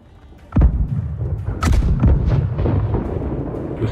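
Ship cannons firing a broadside in Blackwake: a sharp heavy boom, then a string of further close blasts and thuds rumbling in irregular succession.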